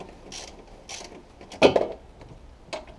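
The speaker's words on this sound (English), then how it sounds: "Make sure you get this bolt straight on a thread and then tighten them up." Bolts on a VW Sharan engine are tightened by hand during a timing belt and water pump job, giving a few close ratcheting clicks and metallic creaks in short separate bursts with quiet gaps between.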